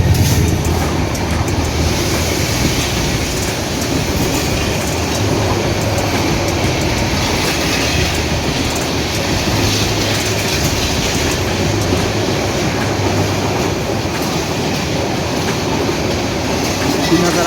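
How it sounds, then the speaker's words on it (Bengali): The 798 Down Kurigram Express, bound for Dhaka, thunders through Birampur station on line 2 without stopping, with a loud and steady close rumble and a rhythmic clatter of wheels over the rail joints throughout. "কুড়িগ্রাম এক্সপ্রেস বিরামপুর রেল স্টেশনের ২ নম্বর লাইন দিয়ে ফুটপাস করে চলে যাচ্ছে ঢাকা অভিমুখে"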